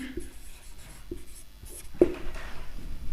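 Chalk or marker tapping and scratching on a classroom board while a chemical formula for a carbon compound is written out, a few sharp strokes close up in a quiet room.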